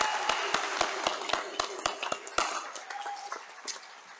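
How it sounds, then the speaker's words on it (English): Graduates get a round of applause at a Lincoln University of Missouri nursing commencement, a mid-level mass of crowd clapping with sharp regular knocks cutting through in the first half, tapering off toward the end. "I think that these graduates deserve one more round of applause."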